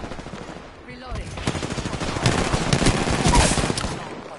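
Sustained automatic gunfire in a video game played on PS4, a dense, loud, rapid rattle of shots that swells and keeps going to the end, with a few faint game sounds before it starts.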